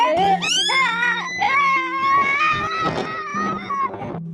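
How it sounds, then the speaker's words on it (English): Shrill, wavering screams in an old apartment building, loud and close, rising and falling in pitch over several seconds. "A scream breaks the silence"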